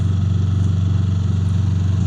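A Suzuki DF6A outboard boat motor runs at low revs on a hybrid boat with an electric motor, producing a steady, close, droning hum with an even throb and no voices.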